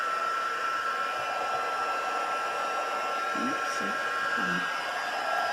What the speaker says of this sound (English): And hold this up, and then grab it with the heat gun.